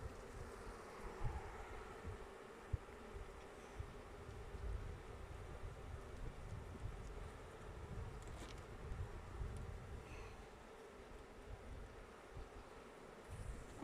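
Honeybees hum continuously around an open beehive during an October inspection, a faint low drone with light wind noise and occasional soft knocks.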